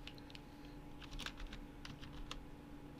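Quick irregular keystrokes on a computer keyboard typing a site name, faint and close over a steady hiss and low hum, with no speech.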